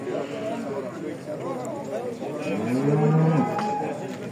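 A Simmental cow moos loudly and close by near the end, with a low, drawn-out call under ongoing talk and farmyard background noise at a livestock market.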